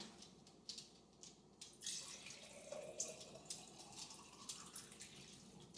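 Tap water runs from a kitchen sink faucet into a container, pouring steadily with changing splashes and trickles as it fills toward overflowing, moderately quiet and close.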